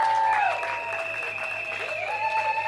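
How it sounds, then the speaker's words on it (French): An audience applauds warmly for the bride, Nadette, at a Congolese civil and customary wedding, a steady mid-level clapping lasting throughout while musical tones ring over it. "Est-ce qu'on peut acclamer très fort?"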